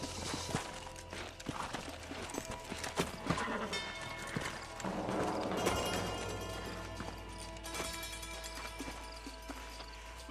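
Horses' hooves clip-clop in the Red Dead Redemption video game, with steady hoofbeats and a whinny amid western game music and ambience, moderately near.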